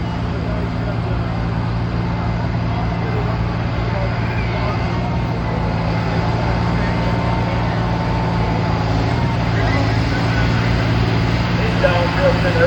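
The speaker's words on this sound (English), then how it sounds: "He's downshifting already, getting a little nervous." Steady, loud low drone of a pulling tractor engine working down the track at a tractor pull, a continuous roar with little change in pitch and faint crowd and announcer talk beneath it.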